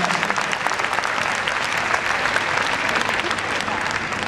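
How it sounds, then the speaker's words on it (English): Loud, sustained applause from a large crowd at a dog agility competition at Crufts, steady dense clapping throughout with no letup. "A huge round of applause for you."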